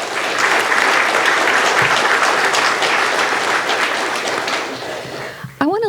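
An audience at a university commencement in Sitka gives graduates' families a loud, sustained round of clapping that fades near the end and is cut off by a brief sharp noise.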